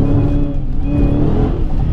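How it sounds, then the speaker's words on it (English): A manual Dodge Challenger Hellcat accelerates hard, its supercharged V8 roaring loudly from inside the cabin with a rising, steady drone and a faint high whine layered on top, and no talking. "Holy shucks, I forget how fast this car is"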